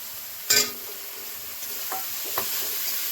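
Prawns with spices in a pan, a quiet continuous sizzle with one sharp utensil clatter early on and a couple of softer stirring knocks afterward.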